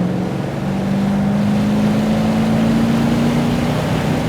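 Steady, loud drone of a Chevrolet Corvette C6 V8 running its dual-mode exhaust wide open, a constant low engine tone rising slightly in pitch while driving, with wind noise and no talk.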